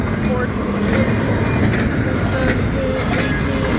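A BNSF double-stack freight train rumbles past continuously and loudly at close range, with steady wheel and rail noise and faint clicking throughout.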